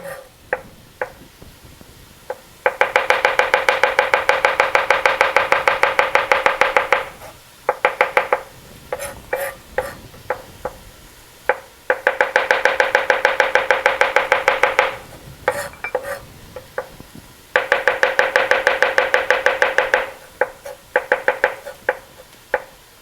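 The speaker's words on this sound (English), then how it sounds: "So with the garlic, we're just going to cut these into small pieces" A knife chops garlic cloves into small pieces on a board, with three long bursts of fast, even rapid-fire taps separated by slower scattered knocks, close and crisp with no voices.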